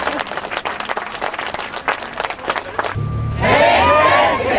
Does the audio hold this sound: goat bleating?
no